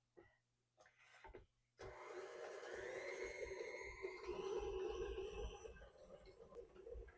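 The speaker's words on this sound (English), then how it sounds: "Beat for another 2 to 3 minutes. If you don't have a stand mixer, hand mixer will do just fine." A stand mixer starts up partway through and beats cookie dough with a steady motor whir and churning, after a few quiet knocks, fairly faint and close.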